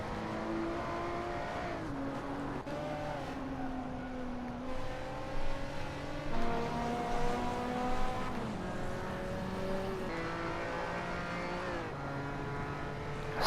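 Toy-style race cars from the Hot Wheels: Universe Zero game sweep through S-shaped corners, engines whining and rising and falling in pitch as they shift and jostle, a steady loud motor drone with no voices.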